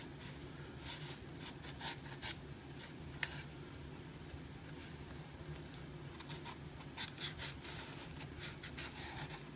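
A knife peels the fibrous, ribbed stalks of a cardoon in a kitchen, giving soft scraping and rasping strokes in irregular bursts, close and fairly quiet, with no talking.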